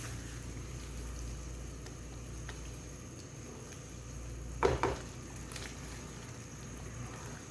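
A spoon stirs red kidney bean masala as it fries in a pan. A faint, steady sizzle runs throughout, broken by a couple of brief metallic scrapes and clinks near the middle.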